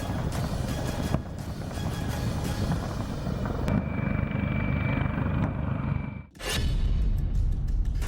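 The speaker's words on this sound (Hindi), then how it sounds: "कमोव 52 एक अटैक हेलीकॉप्टर है।" A Kamov Ka-52 attack helicopter roars loudly and continuously with a throbbing rotor rumble, cut by a brief sharp drop in sound before the heavy noise resumes.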